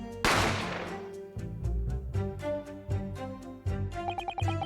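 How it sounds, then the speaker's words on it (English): A sharp gunshot cracks out in The Great Ace Attorney Chronicles, one loud blast at the start with a decaying tail, followed by dramatic game music. "a gunshot rang in my ears."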